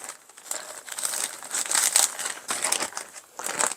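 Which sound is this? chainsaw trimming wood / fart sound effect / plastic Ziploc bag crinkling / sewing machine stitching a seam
plastic Ziploc bag crinkling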